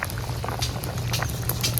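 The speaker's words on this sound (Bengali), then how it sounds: "তরকারি ঝোল ফুটে গেছে" Curry broth with giant freshwater prawns boils in a pot, a close, continuous bubbling and popping at a steady level.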